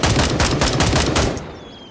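Rapid automatic gunfire in the tactical shooter game Gray Zone Warfare, a loud close burst of shots in quick succession that stops abruptly and leaves a short fading tail.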